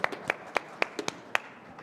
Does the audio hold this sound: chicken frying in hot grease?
no